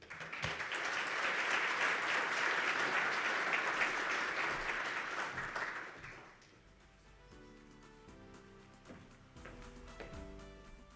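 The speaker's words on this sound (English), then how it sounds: "Mr. Pat Manathan deserves another round of applause" Conference audience at Namibia's National Green Hydrogen Conference applauding after a speech, a dense sustained wash of clapping for about six seconds that fades out as soft piano-like music follows.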